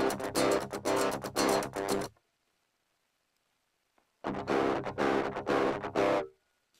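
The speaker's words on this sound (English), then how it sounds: "So that is what my tube screamer is doing," Electric guitar through a Tube Screamer-style overdrive pedal, gritty driven chords in two short strummed phrases separated by a pause of silence, moderately loud with no talk.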